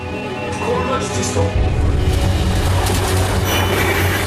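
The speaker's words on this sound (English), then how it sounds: "The Thames Turbo is about to cross into the path of the incoming high-speed train." A high-speed train runs on rails at the Paddington crossing where a Thames Turbo is crossing its path, a steady loud low rumble of rail noise with rising intensity, under talk.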